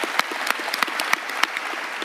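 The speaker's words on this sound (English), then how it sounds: "big round of applause for them" A conference audience applauds steadily, a dense wash of many hands clapping at moderate volume with a few sharper claps standing out.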